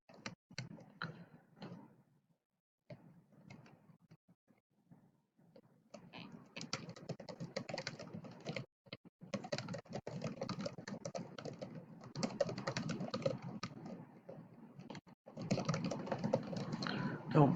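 Computer keyboard typing in bursts of rapid clicks, with pauses between runs and a denser stretch toward the end; light speech is faintly present at times.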